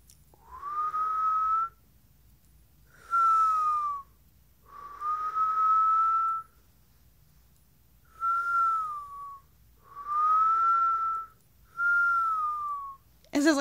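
A person whistling while breathing in, six separate sustained tones, each a couple of seconds long with short pauses between, close and clear with no talk.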